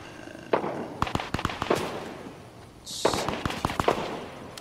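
Gunfight in the Fortnite video game: repeated sharp gunshots crack out in uneven bursts, some near and loud and some farther off, with a brief hiss partway through.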